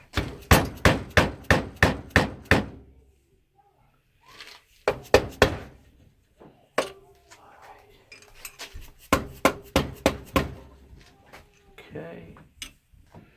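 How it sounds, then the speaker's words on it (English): A dead blow hammer strikes a motorcycle crank in quick bursts of sharp, ringing blows, several rapid runs separated by short pauses, close and loud. "I'm using a dead blow hammer on the crank so I don't hurt the crank."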